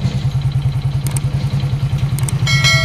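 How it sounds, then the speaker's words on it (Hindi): A motorcycle engine with a piston knocking fault runs steadily up close, giving a fast, even low-pitched thumping pulse throughout, with brief metallic ticks near the end; no one talks. "फिलहाल इस बाइक में जो साउंड है वो पिस्टन का साउंड है टन टन का"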